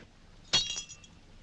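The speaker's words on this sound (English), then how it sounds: "Does it break because it is faulty or because it is glass?" A drinking glass said to have been used by Benedict Arnold shatters in a single sharp crash, followed by a brief tinkle of falling shards in an otherwise quiet room.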